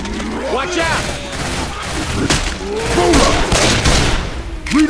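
Rapid bursts of gunfire in Left 4 Dead 2 with zombies around, loud and close, repeated shots crackling over shouted player voices.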